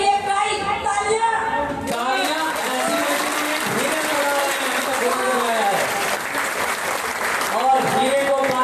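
An audience at a leadership meeting in Ayodhya applauds steadily throughout, sustained crowd clapping beneath someone speaking loudly over a microphone.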